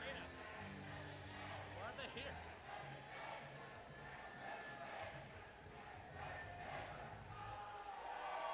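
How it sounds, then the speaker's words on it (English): Crowd cheering and yelling from the stands of a high school gym during a robotics competition event, boisterous and echoing, with an announcer and nearby voices talking over the noise. "cheering in the stands"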